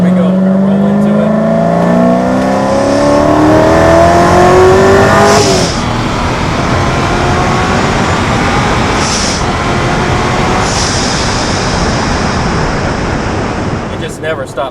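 A Hennessey HPE1000 supercharged Corvette Z06 accelerates hard, its loud rising engine note sweeping up through the gears with brief dips at the shifts, heard close from inside the car.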